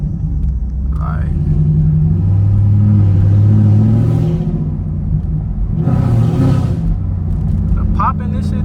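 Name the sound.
tuned Camaro SS engine revving with exhaust pops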